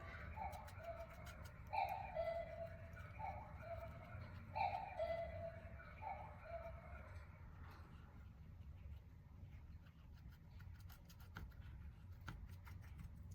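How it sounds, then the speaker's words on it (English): Soft repeated cooing calls, in a rhythmic sequence of paired notes, ring out from a cuckoo clock in a quiet room before trailing off into faint background hiss. "my cuckoo clock's gonna go off"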